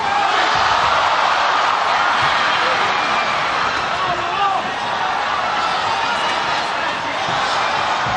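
Boxing arena crowd at the Pacquiao vs Matthysse fight, a loud, continuous roar of cheering and shouting that swells steadily throughout, with a commentator's voice running under the din.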